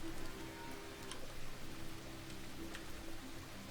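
Rain in the farming game Farmer's Dynasty falls as a steady hiss with light ticking drops, quiet and continuous over a low background hum.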